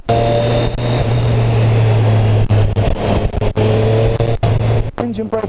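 A Triumph Street Triple RS 765 motorcycle's engine drones steadily under riding, with shifting engine pitch and wind noise, while a rider talks over it.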